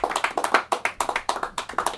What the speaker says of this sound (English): I was just starting the applause for when you got off the stage